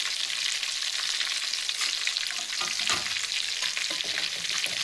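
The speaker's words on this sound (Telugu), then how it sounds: "మీడియంలో పెట్టుకొని ఫ్రై చేసుకోండి" A tandoori chicken leg fries in oil over a medium flame, giving a dense, steady hiss of sizzling with a few brief stirring or turning sounds, close and continuous, no speech.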